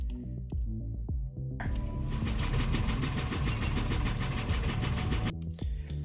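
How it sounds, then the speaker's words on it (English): A small boat engine in the Philippines cranks briefly, then catches and runs at a steady, loud rumbling idle for several seconds before cutting off abruptly. "I got this footage of this Filipino gentleman starting up his boat"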